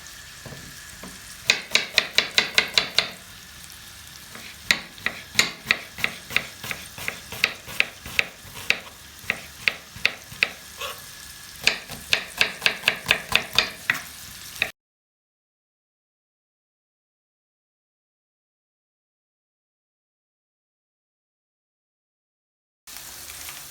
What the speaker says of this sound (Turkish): Kıymamız kavrulurken hafif hafif biz de soğanlarımızı ince ince doğruyoruz.